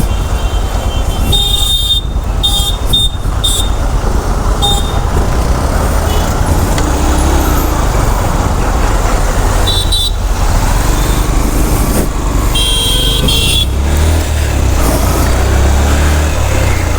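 Heavy highway traffic on the NH66 through Mangaon, a loud continuous roar of engines and tyres close by, with several short horn blasts breaking through near the start and again around the middle.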